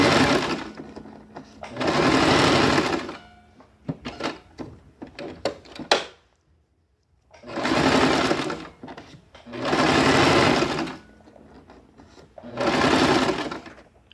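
A sewing machine stitches a draped jacket in several loud bursts of a few seconds each, separated by pauses filled with small handling clicks and rustles, all close by.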